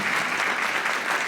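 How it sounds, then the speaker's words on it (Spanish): Audience clapping for an architect at a closing in-person session of a co-creation week event, a brief, steady burst of many hands applauding together. "Un aplauso para la arquitecta Vanina Salinas"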